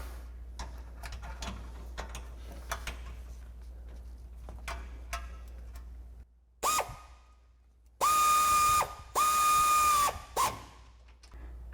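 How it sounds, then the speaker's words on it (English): A power tool and ratchet with a 13mm socket tighten a suspension bolt on a 2022-2024 Toyota Tundra lift kit: a series of close ticking clicks, then three loud, sustained whirring bursts. "we'll switch to a 13mm socket and tighten this bolt down"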